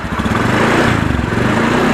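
A Honda Beat 110cc scooter engine idles steadily and smoothly up close, a constant loud putter with an even rhythm and no talk over it.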